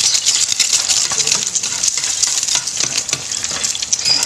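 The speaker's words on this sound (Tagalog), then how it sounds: "Piprito tayo ng itlog guys." Egg frying in a pan, a dense continuous sizzle with crackling pops close by, steady throughout with no voices.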